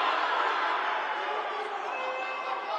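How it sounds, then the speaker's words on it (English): A football crowd roars steadily inside Vicarage Road during a Watford versus Chelsea FA Youth Cup match, a continuous broad wash of cheering at moderate distance. "it's got the crowd inside Vicarage Road going as well"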